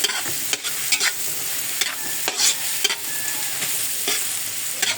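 Ginger and onion browning in a pan, a soft continuous sizzle broken by regular scraping stirs of a spatula, close and fairly quiet, with no talking.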